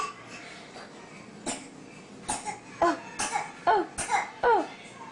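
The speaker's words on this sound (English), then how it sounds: "Oh, cough, cough." A baby of about six to seven months coughs several times in short bursts, fairly close and loud, with soft breathing between the coughs.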